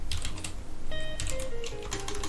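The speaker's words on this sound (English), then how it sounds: "French keyboard" Rapid typing on a French computer keyboard, a dense run of close, crisp key clicks that keeps going throughout, with faint tones in the background.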